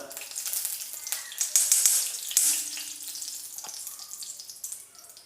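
Egg mixture sizzling in hot ghee, bursts of crackle and a few clinks of a utensil stirring, close by, rising then settling.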